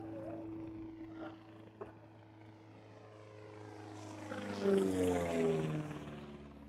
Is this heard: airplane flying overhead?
yes